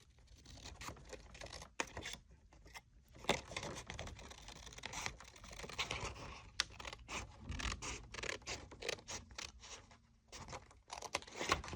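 Scissors snip and scratch through a paper tag, with irregular crisp cuts and rustling of paper, close and fairly quiet, with no talking.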